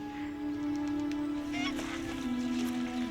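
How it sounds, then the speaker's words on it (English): Swans give drawn-out, nasal honking calls that blend into a sustained tone at moderate distance, over a soft outdoor background. "Swans."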